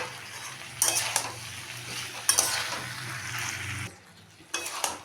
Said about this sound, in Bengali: এখন আমি ভাজা বেগুনটা এটার মধ্যে দিয়ে মিশিয়ে নেব।